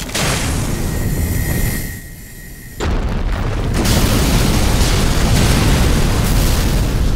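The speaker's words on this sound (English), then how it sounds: "With a great rumbling, the apartment complex collapses in an instant" An apartment complex collapses in the Tsukihime visual novel game, with a loud, broad rumbling roar that drops away briefly and then returns heavier and sustained to the end.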